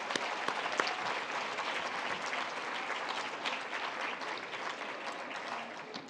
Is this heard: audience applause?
yes